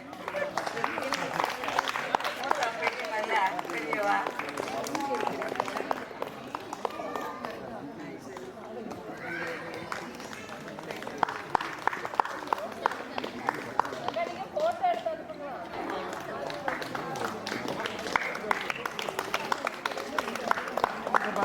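Guests at a family reunion clap in scattered, uneven bursts as an elder daughter is honoured with a shawl, the applause rising and falling throughout under nearly constant talking.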